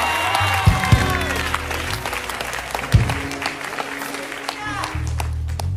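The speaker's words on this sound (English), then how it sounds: "Clap for Jesus" Worshippers at a church service clapping, a continuous patter of hands with a few sharper claps, under a loud preaching voice and musical tones.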